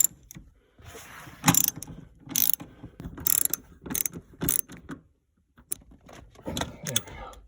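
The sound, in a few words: fastening seat bolts with a ratchet on a 2012 Prius V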